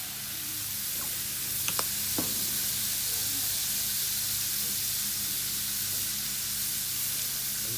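Vegetables sizzling on an outdoor grill, a steady loud hiss that holds evenly throughout, with a couple of brief clicks near the start.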